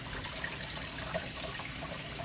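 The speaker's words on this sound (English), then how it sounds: "The pasta just got done, so I drained it and I'm rinsing it in cold water." Cold tap water running over drained pasta in a kitchen sink, a steady close rush and trickle heard alone.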